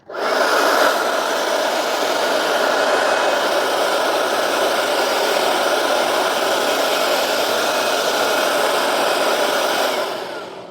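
A small leaf blower runs at its third speed setting outdoors among leaves, giving a steady, loud, broadband whoosh and hum that holds evenly for about ten seconds before easing off at the very end.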